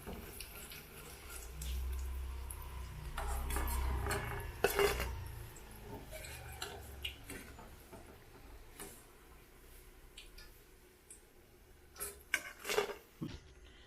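Fried ridge gourd bajji lifted from hot oil with a metal ladle in a home kitchen, with scattered clinks and scrapes against the pan over a low bubbling frying rumble.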